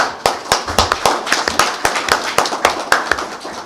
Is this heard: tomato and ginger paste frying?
no